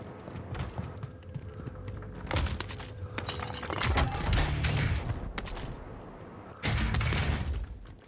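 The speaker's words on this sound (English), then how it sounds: "someone's shooting over here" Video game gunfire rings out in several loud bursts and single shots, with sharp cracks and thuds scattered across a busy background of ambient game noise.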